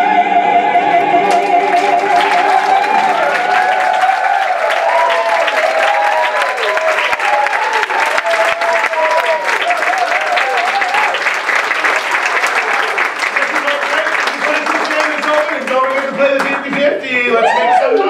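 A large audience bursts into sustained applause and cheering, dense clapping filling the room for many seconds, with a voice calling out over it near the end.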